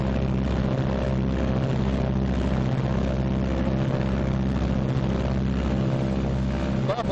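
Twin engines of a B-26 bomber running up together to about 1,800 RPM, a loud continuous droning roar with a steady pulsing beat, close and unbroken throughout.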